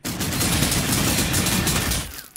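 A rapid, dense burst of gunfire aimed at a knight in the strategy game Sanctus Reach, loud and sustained for about two seconds before cutting off abruptly, with no voices over it.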